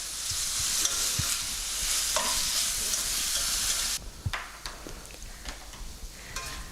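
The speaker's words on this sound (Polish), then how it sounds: "Indyk nie ma się gotować, tylko ma się smażyć na dość ostrym ogniu" Turkey meat sizzles loudly in a pan over high heat for several seconds, then the hiss drops sharply, leaving quieter crackles and scraping stirs.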